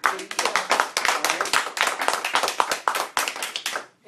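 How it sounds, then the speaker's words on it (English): Graduates clapping at a graduation ceremony, a quick run of distinct, crisp handclaps close by, fairly even in rhythm and sustained throughout. "I'm going to give you myself a round of applause"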